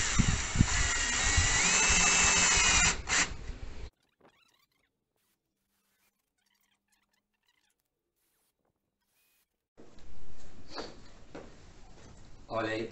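A power drill drives screws into marine plywood for a homemade roof cargo box, with a loud whirring burst at the start, then silence, and a second rougher stretch of drilling near the end.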